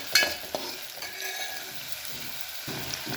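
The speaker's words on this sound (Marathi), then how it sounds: "कांदा मी फोडणीमध्ये टाकलेला आहे" Chopped onion sizzling in a hot oil tempering for a rajma curry, a steady close frying hiss with occasional stirring scrapes and a sharp clink near the start, no talking.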